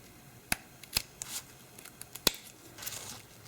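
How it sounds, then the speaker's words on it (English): Scissors snip ribbon for a pinwheel hair bow in several sharp, close cuts spaced irregularly, with light rustling of the material between them. "I'm going to cut diagonally from the ends"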